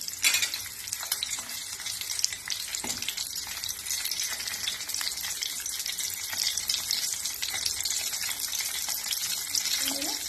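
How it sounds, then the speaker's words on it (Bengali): Bele fish frying slowly in hot oil in a wok gives a steady, dense sizzle that stays even and fairly loud for the whole stretch, with a few faint clinks over it and no talk. "একটু আস্তে আস্তে ভাজতে হবে"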